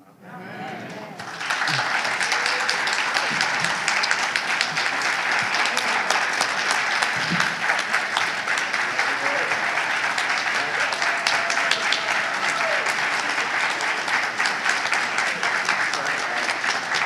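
Sustained applause from a large conference audience for the speakers starts suddenly and continues loudly and steadily, dense clapping filling the space without letup.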